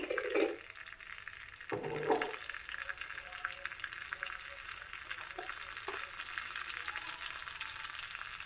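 Mustard seeds crackling in hot oil for onion chutney, a dense steady frying hiss with scattered pops, opening with a couple of louder clanks of a utensil against the pan.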